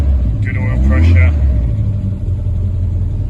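A 1966 Humber Sceptre Mk2 engine idles nearby with a steady low rumble, while a person speaks briefly over it.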